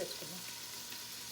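Cooking oil heating in a pan for mutton pulao gives a soft, steady sizzle close by, with a brief faint stir at the start and no one speaking.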